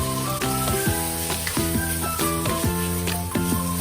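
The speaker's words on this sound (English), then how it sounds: "stir-fry with high heat, 1 teaspoon of ginger paste or ginger slices," Sour pickles are stir-fried with ginger over high heat, giving a loud continuous sizzle. Sharp scrapes and clacks of a utensil stirring the pan run throughout, steady and close.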